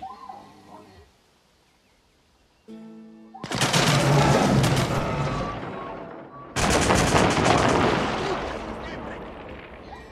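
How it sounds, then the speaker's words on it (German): Enemy gunfire in Age of Empires 4 during a Holy Roman Empire siege: a brief lull, then two loud, dense bursts of crackling shots and booms, each trailing off, after a faint voice at the start. "Die Feinde schießen!"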